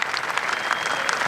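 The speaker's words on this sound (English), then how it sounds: "You can hear the cheers now." Gallery crowd at Augusta during the final round of the 2025 Masters applauds and cheers Rory, a loud continuous wash of clapping from many hands.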